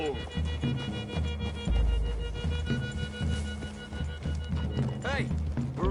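Horse hooves clip-clop and thud along in Red Dead Redemption 2 under game music, with a horse's whinny late on. Characters talk over the hoofbeats.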